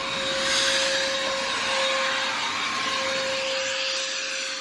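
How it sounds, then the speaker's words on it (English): A vacuum cleaner runs steadily inside a car interior, a continuous close, loud whine with a fixed tonal hum that holds throughout without pause. "I figured he would have been done with the vacuuming by now."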